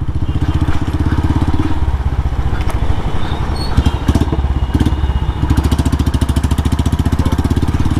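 A Bullet motorcycle engine thumps steadily and loudly as the bike is ridden up onto a bridge, its rapid, even exhaust pulses continuing close by for the whole stretch with a slight dip in the middle.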